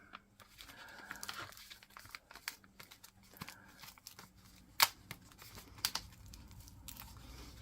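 Backing being peeled off a printable Christmas cocoa envelope sticker, quiet close-up crinkling and tearing rustles with a few sharper snaps, no speech.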